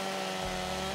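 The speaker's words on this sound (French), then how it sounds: "On va sortir la tronçonneuse et on va tenter de couper un arbre, mon vieux." A chainsaw cutting a tree in Farming Simulator 2017, a continuous steady engine drone with a buzzing tone, held at an even level throughout.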